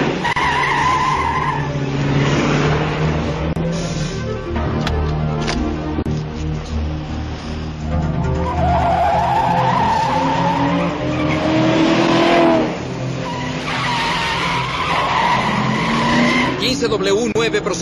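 Car tires skid and squeal loudly during a chase, with engines revving and several long screeches over the stretch, while people shout in Spanish over the noise.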